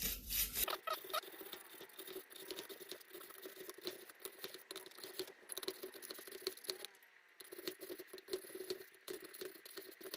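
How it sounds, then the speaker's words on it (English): Wire brush scraping gunk off a part of a Chinese diesel heater, a close, steady scratchy rasping in quick irregular strokes with a brief pause near the end, no talking. "I got a wire brush here. I'm going to give this a little scrape."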